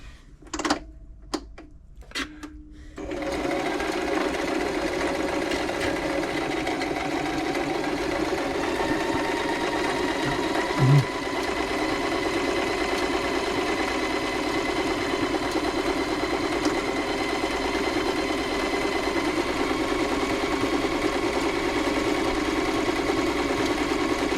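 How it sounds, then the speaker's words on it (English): A Toyota Oekaki RS2000 sewing machine runs steadily after a few brief start-up bursts, its motor hum and needle rattle close and continuous for a long stretch without talk. "Just checking all the stitches, check it's doing everything"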